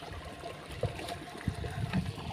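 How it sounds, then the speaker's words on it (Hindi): Water gushes and gurgles from a farm irrigation pipe in a cumin field after the air is pushed out, a close, continuous bubbling flow with a few soft knocks. "तो फ्रेंड्स पानी चालू थी गयो"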